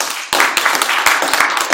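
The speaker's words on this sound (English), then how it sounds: "Let's go ahead and give a big clap." Audience clapping at a talk, a dense loud patter of many hands starting abruptly and continuing steadily, close and without voices.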